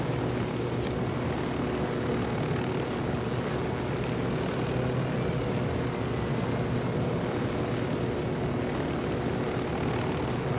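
Helicopter in the video game Ghost Recon Wildlands, a steady, loud droning engine and rotor hum that holds evenly for the full stretch with no talking over it.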